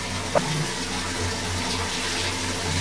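Water running steadily from a tap while a baby is rinsed during a bath, a close, continuous splashing hiss with a brief faint voice near the start.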